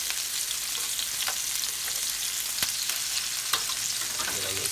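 Lamb chops sear in a hot pan with a steady, dense sizzle that stays loud throughout, broken by a few sharp crackles and pops; no one speaks.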